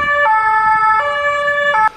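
A Swiss fire service siren on an electric Renault Twizy two-seater blares loud and close, steady tones that shift pitch a few times before cutting off abruptly.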